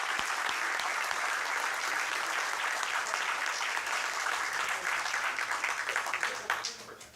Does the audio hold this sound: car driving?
no